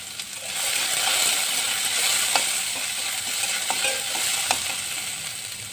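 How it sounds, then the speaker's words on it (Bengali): Potatoes frying in a pan are stirred, giving a steady close sizzle with scattered light scrapes and clinks of the spoon against the pan; no one speaks. "আবার একটু আমরা নাড়াচাড়া করে নেব আলুগুলো, যাতে ভালোভাবে সব আলুগুলোই"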